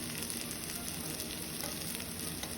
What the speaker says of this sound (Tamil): திரும்பியும் சுற்றிரும் எண்ணெய் விட்டுட்டு திரும்பி நல்லா ஃப்ரை ஆன உடனே நீங்கள் எடுத்துடலாம்.